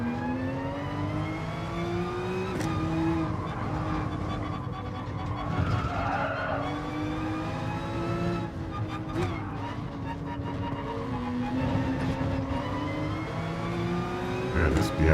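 Race cars in the video game GT Sport, including a Corvette, BMW and Porsche RSR, drone with steady engine noise, tire skids and revving, heard under continuous talking.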